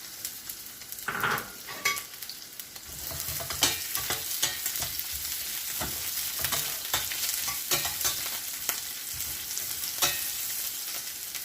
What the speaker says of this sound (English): just a little bit oil to saute our ingredients. This one is onions. We do the onions.